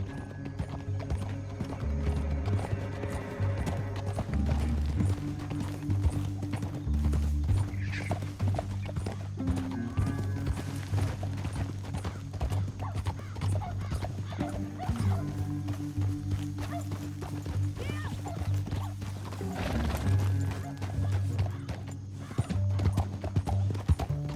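Horses gallop in Red Dead Redemption 2, their hooves clip-clopping in a fast continuous rhythm, with occasional whinnies and a dog barking now and then, over a low musical score.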